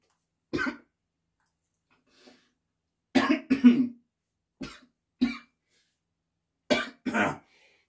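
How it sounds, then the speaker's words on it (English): Several dry coughs scattered through quiet, some single and some in quick pairs, close by and moderately loud, with no speech. "Got a bit of a cough."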